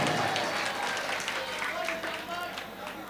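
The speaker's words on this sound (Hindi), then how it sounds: "एक मर्तबा जोरदार तालियां बजा दें आप हजरात" A crowd at a mushaira poetry gathering in Kamthee, Nagpur claps continuously, a dense patter of applause that slowly fades, with a voice heard faintly beneath it.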